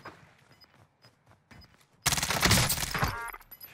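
Rapid automatic gunfire in Call of Duty Warzone erupts suddenly and loudly after a quiet stretch of faint game sounds, a dense burst of shots that rattles on for over a second before fading.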